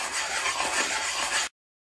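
Steady close-up sanding of a Hercules oil pump part for a Cletrac E-62 on finer grit paper, moved in figure-eight strokes; a continuous dry rasping rub holds for about a second and a half, then stops abruptly.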